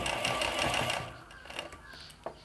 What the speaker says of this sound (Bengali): তারপর আপনারা সেলাই করতে শুরু করবেন